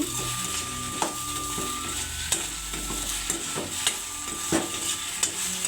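Okra (ladies finger) cooking in a pan, a steady close sizzle and frying hiss with scattered sharp clicks and scrapes of stirring, continuous and without speech.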